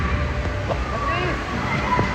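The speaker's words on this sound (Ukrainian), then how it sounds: "Обаджа, там вже наші водою стріляють." At a water park in China, water is squirted and sloshes with a constant splashing wash, heard amid crowd babble and nearby talking.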